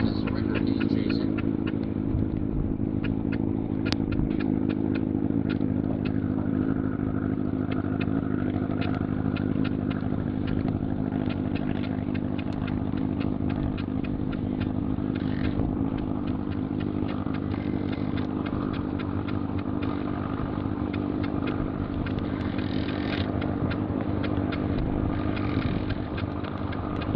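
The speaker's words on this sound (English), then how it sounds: "Alan McMurray on course 2 in the 833 bike" A racing motorcycle, the 833 bike, runs a hill climb course, its engine droning steadily throughout with revving and gear changes, heard from a distance against constant background noise.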